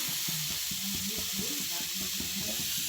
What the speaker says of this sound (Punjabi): ਤਵੇ ਦੇ ਉੱਪਰ ਆਪਾਂ ਸ਼ਕਰਕੰਦੀਆਂ ਨੂੰ ਰੱਖਤਾ ਤੇ ਗੈਸ ਦਾ ਜਿਹੜਾ ਫਲੇਮ ਆ ਉਹ ਆਪਾਂ ਮੀਡੀਅਮ ਜਿਹਾ ਰੱਖਾਂਗੇ